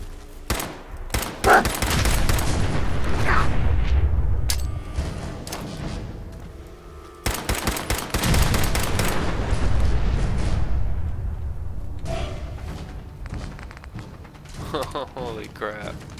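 Nuclear grenade blasts and bursts of gunfire in the Fallout 4 video game, with loud, dense rumbling explosions and rapid shots that come in two main waves and then sparser hits.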